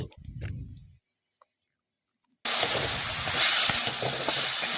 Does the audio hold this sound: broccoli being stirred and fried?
yes